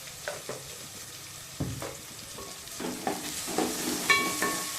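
Tomato, onion, turmeric and salt stirred in a pan for uggani, a soft frying sizzle broken by repeated close scraping strokes of a spoon against the pan, no talking.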